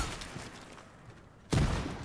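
Muffled background noise, then a sudden loud burst of gunfire in the video game Rainbow Six Siege at about one and a half seconds that keeps rattling to the end.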